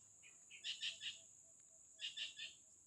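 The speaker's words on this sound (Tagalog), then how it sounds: "Parang malaking ibon yun ah." A large bird calls at night in two short bursts of three or four quick hooting notes, faint and distant against a quiet background with a thin steady insect-like whine.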